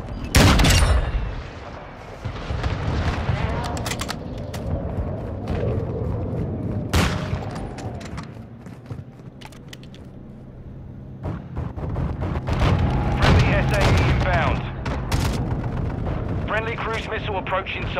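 Precision airstrike in Call of Duty: Modern Warfare II, a series of heavy booming explosions and rattling gunfire bursts through the clip, loud and close, mixed with in-game voice callouts and a player talking.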